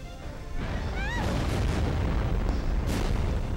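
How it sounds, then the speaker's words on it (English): A loud, sustained rumbling boom of explosions from the video game Sakura Wars, with sweeping synthetic tones early and bright bursts layered over the roar. "Explosions."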